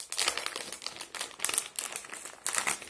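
An antistatic bag around a SATA-to-USB cable crinkles and rustles continuously up close as it is unpacked, with bursts of louder crackling.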